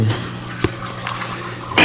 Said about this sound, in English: Got my saltwater mixing station going.